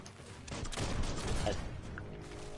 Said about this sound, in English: Oh, that's a 12 gauge.